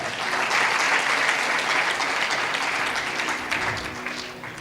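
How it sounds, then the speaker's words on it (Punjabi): A church congregation claps loudly and steadily during a sermon, a dense continuous wash of hand claps that holds strong for several seconds before easing slightly toward the end, with no talking over it. "ਤਾਲੀ ਮਾਰੀਏ ਜ਼ੋਰ ਦੇ ਨਾਲ"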